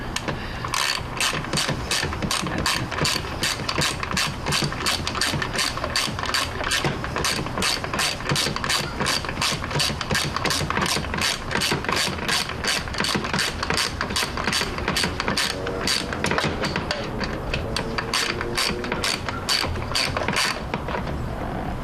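A hand ratchet clicks rapidly and continuously while tightening spark plugs on a 2007 Nissan Sentra engine, loud and close, a dense, even stream of pawl clicks that slows slightly near the end.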